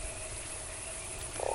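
A talking toad in the Fran Bow game gives a short croak near the end, over a steady background hum.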